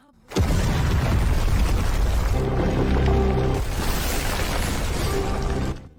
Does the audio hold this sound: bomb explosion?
yes